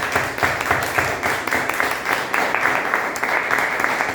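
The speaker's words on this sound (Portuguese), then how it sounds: "Vamos dar uma salva de palmas para o Senhor." A church congregation applauds together in a sustained burst of steady, dense clapping that stays even and fairly loud throughout, with no talk over it.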